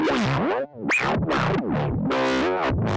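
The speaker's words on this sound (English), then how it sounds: "We're going to saturate this sucker." A heavily distorted, gritty wavetable synth plays sweeping notes that bend in pitch, sounding buzzy and saturated, loud and alone without any voices.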